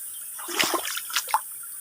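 Clear river water runs steadily through a forest near its upstream hot-spring source, a continuous rushing wash with small splashes and gurgles over it.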